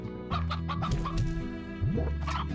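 Chickens in the farming game Slime Rancher clucking close by, a run of throaty bursts and rising squawks repeating in short clusters with no talk over them.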